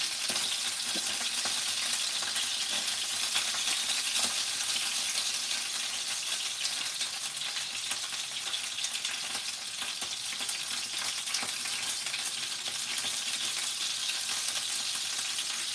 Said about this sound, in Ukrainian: А ви смажете пельмені.